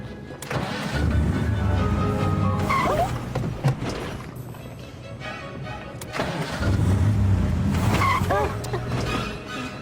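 A car lurches and jerks along as its driver struggles with the controls, the engine rumbling loudly, surging and dropping in uneven bursts, with occasional voices over it.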